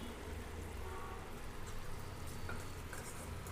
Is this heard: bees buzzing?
no